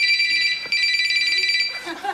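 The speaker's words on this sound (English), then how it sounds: "As soon as the phone rings" A telephone rings with a rapid, trilling electronic warble in two bursts separated by a short pause, fairly loud and close, with no talk over it.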